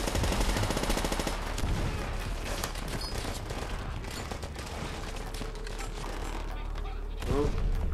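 Sustained rifle and machine-gun fire in the World War II shooter Call of Duty: World at War, with rapid overlapping bursts and mechanical clatter running continuously at close range.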